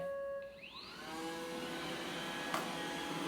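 A robot vacuum on its spot-clean setting whirs up to a steady motor drone with rising whine, running continuously and close by, with a brief click partway through.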